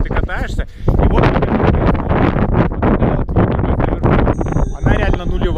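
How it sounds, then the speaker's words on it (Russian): Heavy wind buffets the microphone in loud rumbling gusts during a snowstorm at Dragobrat in the Carpathians while a person talks close up through the noise. "Микрофон, к сожалению, много чего будет не слышно, потому что здесь ветер жуткий"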